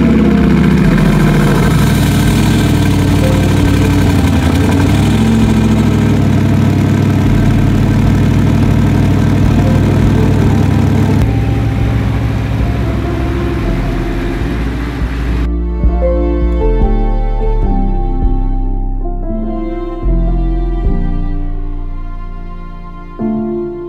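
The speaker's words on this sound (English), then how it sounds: "cold start up on an Audi R8 2010" Cold start of a 2010 Audi R8 with a gated manual: a loud high-revving idle holds for about fifteen seconds, then settles to a lower, steadier rumble, with no speech.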